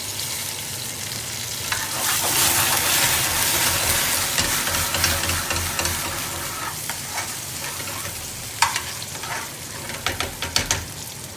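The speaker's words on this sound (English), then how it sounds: "I'm going to put a tiny amount of bottled lemon juice in" Chicken tikka sizzles loudly in a hot pan, the frying swelling into a hiss as a small splash of bottled lemon juice goes in, followed by scattered crackles and light utensil taps.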